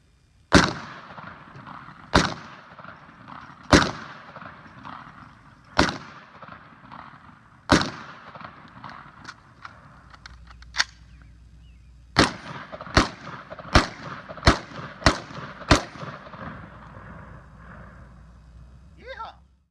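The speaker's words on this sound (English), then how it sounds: "we're going to switch it up to birdshot and finish them off" A Vepr 12 shotgun fires birdshot at bottles and cans outdoors: loud, sharp blasts spaced a couple of seconds apart, then a faster string of shots near the end, each with a brief echoing tail.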